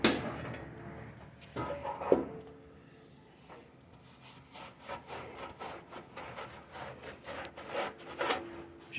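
A microfiber towel wiping residue off a freshly cleaned surface, giving repeated brisk rubbing strokes close by that speed into a quicker back-and-forth rhythm toward the end.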